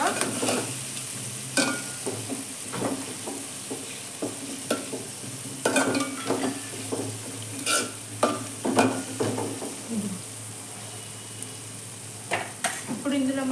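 Potato and fenugreek leaves sizzle softly in a pan while a spoon scrapes and taps through them in irregular stirs, close and fairly quiet.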